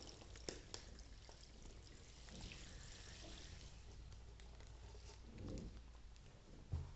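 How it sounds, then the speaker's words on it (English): Water is poured quietly into the middle of a hand-tied aqua pack bouquet, a faint, soft trickle and patter with a few small bumps and a louder knock near the end. "pour in the water"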